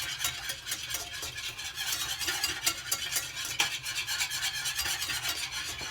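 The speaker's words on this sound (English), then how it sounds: "you whisk constantly until your mixture thickens" A whisk scrapes steadily and rapidly around a pan of vinegar pie filling as it boils on the stove, a continuous close rasping stir with faint sizzling underneath, no voices.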